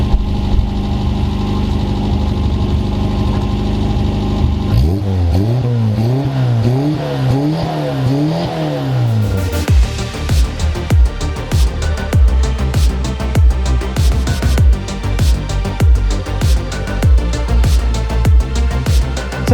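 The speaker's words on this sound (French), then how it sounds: "on peut profiter du bruit du trafic" A Renault Trafic van's engine, worked on at its cooling circuit, idles before rising and falling through a few revs, then runs with a rough, loud, close mechanical clatter.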